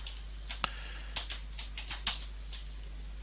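Scattered keystrokes on a computer keyboard while C code is typed, sharp close clicks coming in irregular bursts with short pauses between, no voice.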